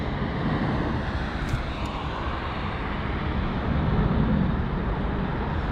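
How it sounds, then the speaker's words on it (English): A DHL Airbus A300 cargo jet departing Heathrow gives a loud, continuous broadband roar of engines that swells slightly toward the end, with no talk over it. "So we've got a departure, the DHL"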